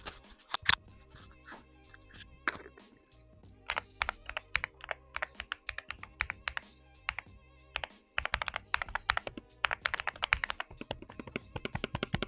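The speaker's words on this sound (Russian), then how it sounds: "давайте послушаем стоковый звук этой клавиатуры" Rapid clicky keystrokes on a stock mechanical keyboard, an AULA F75 or AJAZZ AJ820, bursts of typing with short pauses, close and crisp with no voices.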